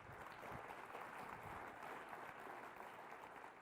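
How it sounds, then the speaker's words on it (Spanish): A church congregation claps in a steady, dense wash of applause, fairly faint and even throughout, with no voices standing out. "Dale un fuerte aplauso a tu Dios."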